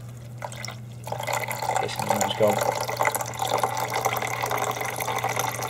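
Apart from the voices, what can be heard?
water poured into coffee machine reservoir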